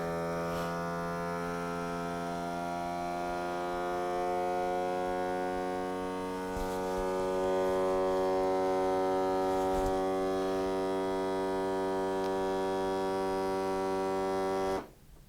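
An Avid Armor vacuum sealer pumps air out of a container through a hose, giving a loud steady motor hum that holds an even pitch for about fifteen seconds and then cuts off abruptly.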